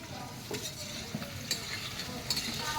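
Cabbage fries in a pan over a homemade wood-fired clay stove while a metal spatula stirs and scrapes it, giving a steady soft sizzle broken by light scraping clicks.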